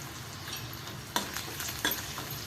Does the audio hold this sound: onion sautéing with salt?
yes